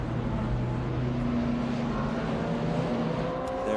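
Porsche 911 race car with the 808 livery passing at Lime Rock Park, a loud steady engine roar close by for several seconds with a sustained droning tone and no talk.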